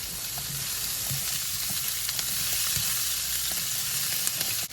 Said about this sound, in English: We're going to let these cook down for about 5 minutes, scraping up any brown bits